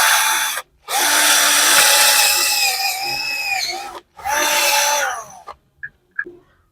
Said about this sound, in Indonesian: kita lakukan lagi pengeboran untuk lubang inbox di belakangnya dengan mata bor pagoda